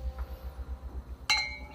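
Glasses clink together once in a toast, a single bright chime that rings briefly after a low, throbbing background hum.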